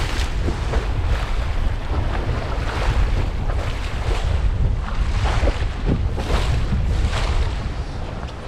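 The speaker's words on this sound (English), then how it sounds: "there's some big waves, maybe these waves will calm down a bit" Big waves slap and surge around a small 20-foot Norfolk Gypsy sailboat as strong wind blows against the tide, with heavy buffeting wind noise and rhythmic splashing close by.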